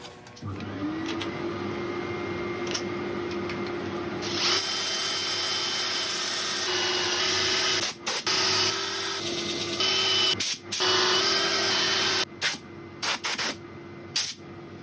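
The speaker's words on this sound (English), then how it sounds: "this one I'm going to give a light sand to" A woodturning piece spins on a lathe under light sanding, giving a steady whirring hum and a hissing rasp that grows stronger partway through, broken by brief dropouts near the end.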